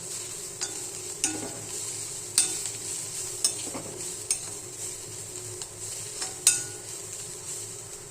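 A spoon stirs cabbage stir-fry with turmeric and chili powder in a pan, giving a soft sizzle broken by repeated clinks and scrapes against the pan at an irregular pace.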